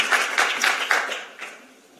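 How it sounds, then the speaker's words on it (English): A conference audience at the 2019 Zaentz Early Education Innovation Challenge applauds the pilot track teams, a steady patter of many hands clapping for a couple of seconds and gradually thinning out. "let's give a big round of applause to everybody in the pilot track"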